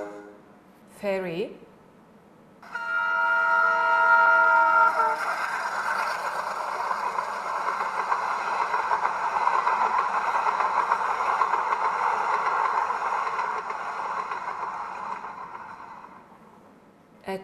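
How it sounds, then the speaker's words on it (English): A train rolls past, its steady rumble and harmonic screech swelling and then fading, after a short voice at the start. "Train."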